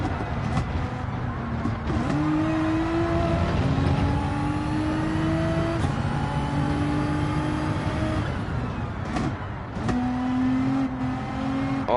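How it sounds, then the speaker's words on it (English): Race car engine in the Gran Turismo 7 racing game, droning steadily and stepping down in pitch through several gear changes, loud and close with no talk over it. "Oh, I downshifted way too early"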